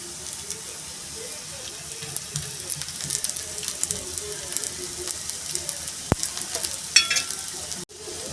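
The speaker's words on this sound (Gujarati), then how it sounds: "બંને સાઈડ આવી રીતે ફ્રાય કરતા રહેવાનું." Sweet corn tikki frying in oil in a pan, giving a steady soft sizzle and crackle throughout with occasional scrapes and clicks of turning, no talking over it.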